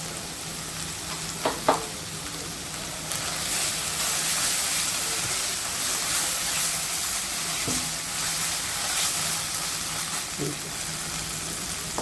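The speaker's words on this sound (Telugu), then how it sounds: "మంచిగా ఫ్రై అవ్వాలి." Ginger garlic paste and chopped garlic frying in a pan, a steady close sizzle and hiss throughout with a few faint stirring knocks, no talk.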